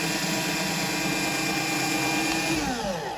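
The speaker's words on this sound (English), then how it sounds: "So we're gonna drill a hole" A power drill bores a hole in wood for a DIY Christmas stocking holder, a steady loud whirring drone throughout that dips in pitch near the end as the bit slows.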